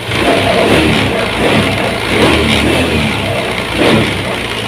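A Honda Vario 110 carburetor motorcycle engine revs steadily at high speed, a loud continuous engine drone with slight swells in pitch, no voices.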